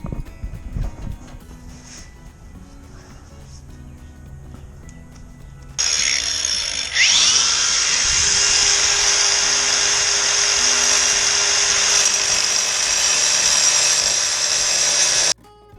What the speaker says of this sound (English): I'm going to attempt to cut that with this side grinder with a tile or a masonry wheel on it